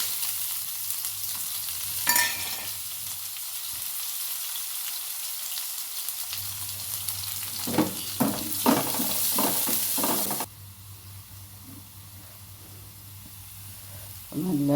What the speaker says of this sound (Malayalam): ഒരു ചട്ടിയിലേക്ക് തന്നെ ചെറിയുള്ളി ഇട്ട് കൊടുക്കട്ടെ.